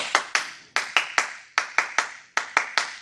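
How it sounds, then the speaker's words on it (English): Hands clap close and crisp in a repeating rhythm of two sixteenth notes and an eighth note, played four times in a row with no talking. "2/16 notes and an eighth note sounds like this."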